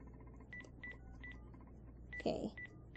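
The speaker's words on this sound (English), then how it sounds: "I think I finally dialed the right number." Telephone keypad tones beep in a quick irregular sequence of short dual-tone presses, with a brief rustle midway, heard fairly close over a low background hum.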